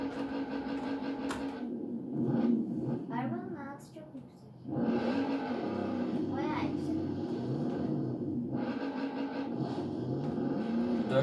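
A Lamborghini Urus engine revs in the racing game Forza Horizon 4, droning hums that rise and fall in pitch across the stretch, with a person talking over it in the middle.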